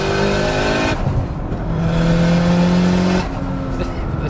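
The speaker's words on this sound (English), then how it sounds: "that external wastegate makes the good noise" A turbocharged Subaru 2.5RS with a swapped engine and external wastegate roars under load, easing off with a whooshing release before building again, loud and close inside the car.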